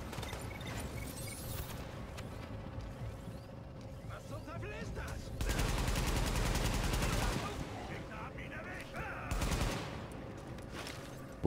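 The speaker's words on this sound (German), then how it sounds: "Ich hab auch auf den geschossen." Gunfire from the video game Tom Clancy's The Division, with dense bursts of rapid shots that swell louder around the middle and again near the end, all under ongoing German-language game commentary.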